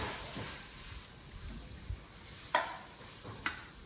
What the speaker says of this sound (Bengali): মাছ ভাজা হচ্ছে আর কি।